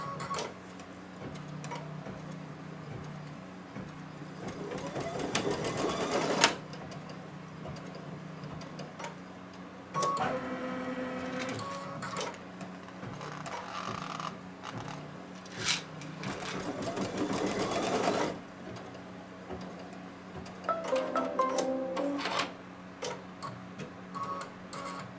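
A home embroidery machine stitches a design on split-hooped fabric, its rapid ticking needle running in several bursts with quiet pauses between them, close and steady, and a voice talks briefly over it.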